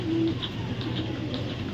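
Red-gear pigeons give low, murmuring coos close by in a brief burst, the soft calls repeating over a steady background hum.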